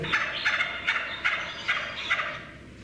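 A wild bird calls in reply to a honey hunter in Africa, giving a rapid series of about seven evenly spaced chattering notes, fairly close and clear.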